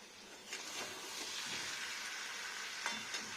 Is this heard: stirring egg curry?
yes